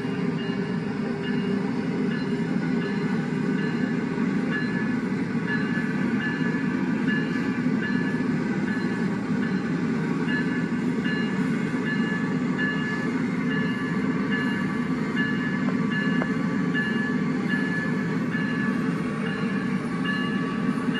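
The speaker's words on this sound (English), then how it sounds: "That was nice. Orange train was trailing." A BNSF freight train rolls past with a trailing distributed power unit, giving a steady, continuous rumble and rail drone with faint tonal hums, sustained at even loudness throughout.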